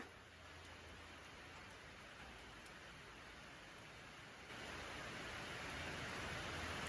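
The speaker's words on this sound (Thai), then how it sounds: "ฝนตกมาเลยครับผม ตกลงมาอีกแล้ว" Heavy rain pours down during a storm, a steady dense hiss that holds for the whole stretch and swells slightly louder partway through, with no voices.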